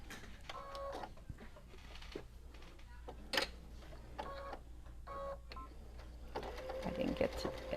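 A sewing machine stitching a tree trunk piece onto a pleated Christmas tree quilt block, running in short bursts with pauses and a faint tick between them, under a low steady hum.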